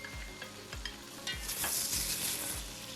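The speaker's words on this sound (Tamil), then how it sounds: "தக்காளி பழம் கொஞ்சம் வதங்கி வரட்டும்" Tomatoes sauté in a pan for chicken biryani with a steady sizzle, while a spoon scrapes and stirs in regular strokes about twice a second, close and moderately quiet.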